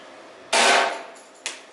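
A hammer strikes a wall indoors: one loud, sharp blow with a ringing decay, then two lighter knocks in quick succession, with nothing else heard.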